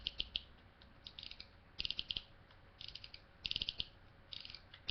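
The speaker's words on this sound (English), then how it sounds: "Nice quiver-worthy ratcheting." A plastic joint on a Transformers action figure ratchets in quiet bursts of fast, crisp clicks, close up and faint, with short pauses between the runs.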